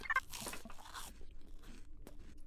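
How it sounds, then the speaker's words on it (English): Crunchy bites of spiky mushrooms being eaten in Empyrion: Reforged Eden, a few brisk chewing crunches close up in the first second, then quieter rustling and a faint click. "I'm eating spiky mushrooms, so my stamina is going down"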